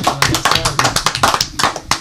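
A few people clap for guests at a podcast table, close, uneven individual claps with scattered taps and a bit of background murmur.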